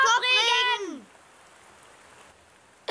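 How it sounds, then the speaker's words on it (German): Heavy rain falls outdoors in a children's cartoon, a steady soft hiss that carries on alone after a short burst of a character's voice, with another voice cutting in at the very end. "Es regnet so doll. Wir können nicht draußen spielen."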